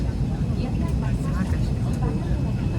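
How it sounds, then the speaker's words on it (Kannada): Airplane engines roar through take-off, a dense steady low rumble from inside the cabin with faint voices mixed underneath. "ಅಂತೂ ಇಂತೂ ಫೈನಲಿ ನಮಗೂ ಟೇಕ್ ಆಫ್"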